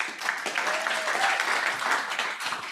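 Audience applause at a Douglas County, Kansas county commissioners meeting, steady dense clapping from many hands sustained throughout, moderately loud and roomy, with no speech over it.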